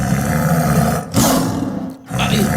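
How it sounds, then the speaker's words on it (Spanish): A tiger roars loud and close, a deep rumbling growl swelling into a full roar, briefly cut off and then resuming. "¡Eso es un tigre! ¡Es un tigre!"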